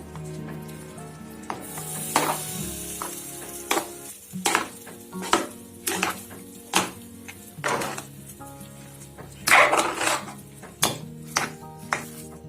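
Tamarind rice being stirred in a hot pan, with a steady sizzle under repeated sharp scrapes and knocks of the spoon against the metal, close and loud, no talking.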